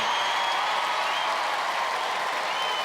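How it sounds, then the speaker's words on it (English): An arena audience at a 1995 Australian Gladiators show applauds the Russian female challengers, a dense, even roar of clapping and crowd noise held at a constant loud level throughout. "Let's have a big round of applause for our Russian female challengers, Larissa and Yelena."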